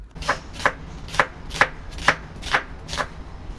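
A knife chops chicken into bite-size cubes on a board in a steady rhythm of about eight crisp, evenly spaced strikes, close and moderately loud over a low background hum, with no talk.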